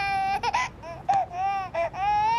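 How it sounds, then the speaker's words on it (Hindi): A baby cries in sustained, wavering wails broken by short catches of breath, loud and close, with no other sound competing. "बच्चे के रोने की आवाज"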